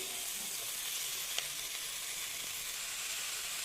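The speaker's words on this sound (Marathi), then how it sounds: "हे पहा मेथी घातली आता आपण छान ढवळून घेऊ" Fenugreek leaves frying in a pan with onion for a garlicky methi bhaji give a steady, fairly soft sizzle, with a faint scrape of stirring and no voices.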